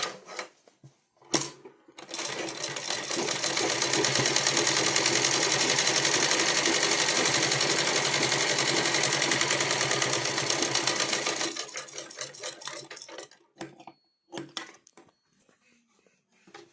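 A sewing machine runs a continuous double stitch on a blouse, close and loud for about ten seconds, with brief mechanical clicks and handling noises before and after.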